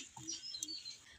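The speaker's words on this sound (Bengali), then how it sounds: "আর বাইরে কিন্তু প্রচুর পাখি শব্দ শুনতে পাচ্ছেন, কিচিরমিচির আওয়াজ করছে।" Birds chirp outside in a vegetable garden with tomato and brinjal plants, giving soft, scattered high tweets that stay faint and distant throughout.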